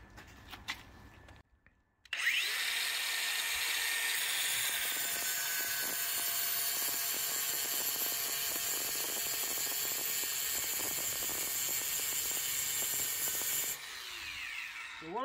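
A power drill bores a round hole in porcelain tile with a loud, steady, high grinding whine that runs unbroken for about twelve seconds after a quiet start, then stops abruptly.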